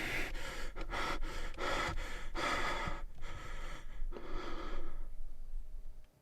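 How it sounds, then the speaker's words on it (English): Heavy rhythmic breathing, a series of loud close gasping inhales and exhales repeating about every half second before fading out. "That was the breathing sound effect."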